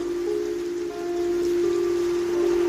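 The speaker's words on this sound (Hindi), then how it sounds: "ट्रक थोड़ा और आगे बढ़ा ही था कि बारिश तेज हो गई" Heavy rain pours steadily on a truck travelling an empty road at night, a dense continuous hiss with a low steady hum running beneath it.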